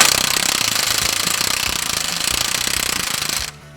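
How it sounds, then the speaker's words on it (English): An impact wrench hammers loudly and steadily on a bolt whose captive nut spins freely inside a 1992 Mazda Miata, a continuous rattling burst for about three and a half seconds before cutting off abruptly. "if I put my impact on it, I'll show you what's happening here"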